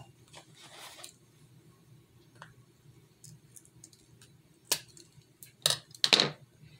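Scissors snip through painted parts of fake-bake rock candy lollipops, a few sharp close clicks and cuts clustered near the end after quiet soft handling sounds.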